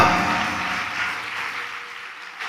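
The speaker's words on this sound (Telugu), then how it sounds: "చప్పట్లు కొట్టవచ్చు ఒకసారి గట్టిగా" A church congregation claps hands loudly and continuously, a dense sustained patter of applause that slowly thins out.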